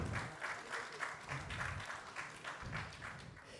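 Audience applause for a speaker being introduced at a Guidel conference on responsible European economy, steady clapping from a sizable crowd throughout, moderately distant with slight swells.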